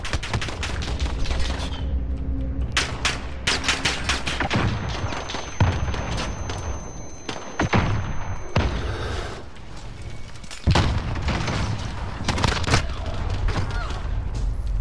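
Pistol gunfire in a Modern Warfare 2v2 gunfight match, with sharp shots cracking in bursts and irregular clusters over game background noise and occasional booms.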